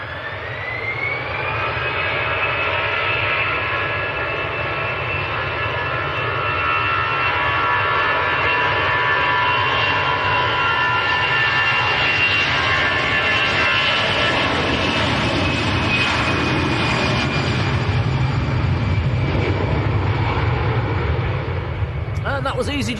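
An EasyJet airliner bound for Fuerteventura climbs out of Manchester Airport, its jet engines a loud, steady roar with a whining tone that holds and slowly fades across the span, background voices faintly underneath.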